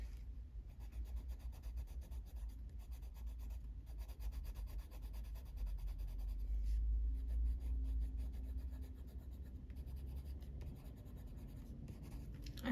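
A colouring pencil blends across a page of a Kerby Rosanes Fragile World colouring book, making a soft, continuous close scratching rub in quick strokes, faint and steady with no talking.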